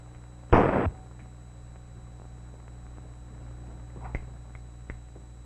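A single loud gunshot burst in a 1949 suspense radio drama, followed by a quiet room tone with a couple of faint clicks.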